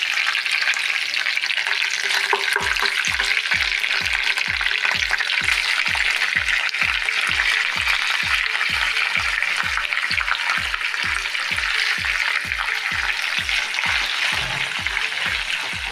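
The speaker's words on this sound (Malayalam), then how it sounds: "അപ്പോൾ ഈ ചിക്കൻ നന്നായിട്ട് ഫ്രൈ ആവണം" Chicken frying in coconut oil in a pan for chicken kondattam, a loud continuous sizzle with a steady rhythmic scraping or stirring beat running underneath throughout, no voices.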